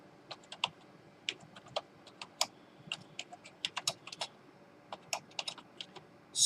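Keyboard keys clatter steadily as PL/SQL code is typed on a computer, a run of crisp, close clicks in quick irregular bursts with brief pauses, heard alone without talk.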